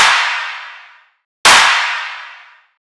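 Two layered clap samples in a riddim dubstep production, low mids and lows cut, struck twice about 1.4 seconds apart; each hit is a loud, bright, slightly clippy burst with a long fading tail.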